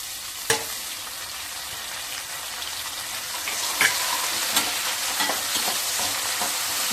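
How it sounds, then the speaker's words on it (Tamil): Onion and tomato sauté in sesame oil with cinnamon, cloves and fennel, a steady close sizzle with occasional sharper clicks and stirring scrapes, no voices. "வெங்காயம் கொஞ்சம் வதங்கின தக்காளி போட்டுக்கலாம்."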